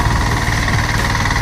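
A power tiller runs during sowing on a Konkan farm field, a loud, steady close-up engine drone with a throbbing low rumble.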